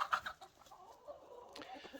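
A backyard chicken, hen or rooster, makes a few short clucks near the start, then softer scattered calls over faint outdoor background.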